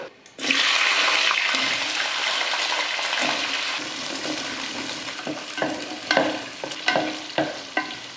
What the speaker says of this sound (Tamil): வெங்காயம் பூண்டு இந்த அளவுக்கு நல்லா வதங்கணும் வதங்க கருக விடாமல் பக்குவமாக வதக்கிட்டு